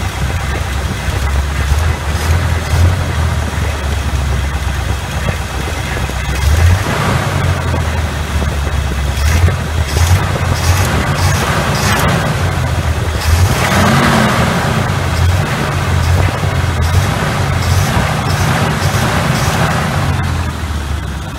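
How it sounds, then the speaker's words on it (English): A 1986 GMC small block 400 V8 fitted with an Edelbrock carburetor revs up repeatedly from a steady idle, loud and close, with no talking. "All right, I'm gonna rev it up a little bit,"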